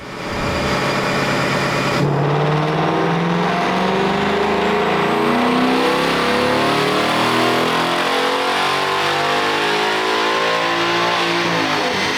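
A 2020 Ford Mustang GT Performance Pack 1 with a Gen 3 Coyote V8 on stock factory calibration makes a dyno pull, its engine loud and close as it revs steadily upward through the gears for about ten seconds.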